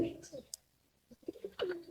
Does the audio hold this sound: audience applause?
no